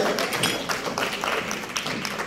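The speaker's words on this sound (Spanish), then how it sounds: "Fuerte el aplauso para ella también." A crowd applauds steadily at a TV series cast presentation, a dense wash of clapping at moderate volume with no pauses.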